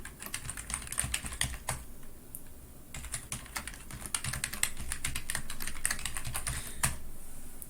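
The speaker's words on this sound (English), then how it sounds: "At that point, I can type them in" Fast, close clicking of a computer keyboard as credentials are typed in short runs of keystrokes, quiet and clear with no talking.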